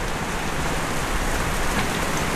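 Steady rain pours down during a harvest, a dense, even hiss of drops striking surfaces with no breaks and no one talking.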